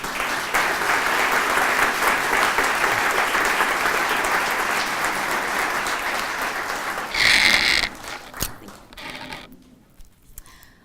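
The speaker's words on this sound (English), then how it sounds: "Put your hands together for a superstar here at Cristo Rey, Newark, Airlene Pierre" Audience applauding at the Cristo Rey Newark awards event as Airlene Pierre is introduced; steady, dense clapping from a large crowd runs for about seven seconds, then swells briefly before tapering off into scattered claps and quiet.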